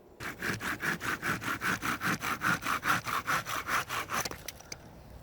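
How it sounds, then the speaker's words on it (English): A pruning saw cuts through a piece of elder wood with about eighteen quick, even back-and-forth rasping strokes, close and clear, ending as the cut finishes. "I'm going to use my pruning saw, I'm going to trim it down to just over a finger's length."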